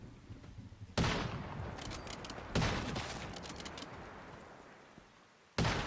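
Gunfire from the video game Once Human: three sharp, loud bursts of shots cracking at wide intervals, each trailing off into a fading echo, with quieter background rumble between them.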